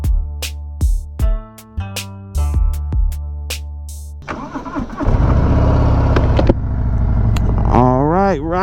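Harley-Davidson Sport Glide motorcycle starts up and pulls away from a dealership, its loud, rough engine note growing and rising in pitch as it revs. It follows several sharp, separate clanks and beeps near the mic.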